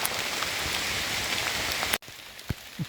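Steady rain pattering on leaves and ground in a forest during mushroom foraging, a dense even hiss that cuts off abruptly, leaving a quieter stretch with a few scattered drops and knocks.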